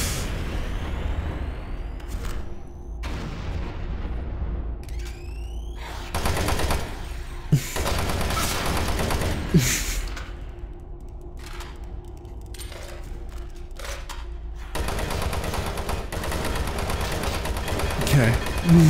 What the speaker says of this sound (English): I picked up a grenade, so that's apparently what I'm firing right now.